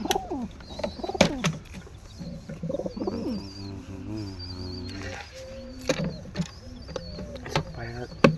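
Pigeons coo close by in a loft of black-and-white pigeons, with repeated throaty, rolling calls and a few flutters and chirps; someone speaks intermittently between the calls.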